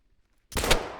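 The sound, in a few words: gunshot from the video game theHunter: Call of the Wild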